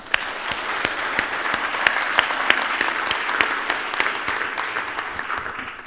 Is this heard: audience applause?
yes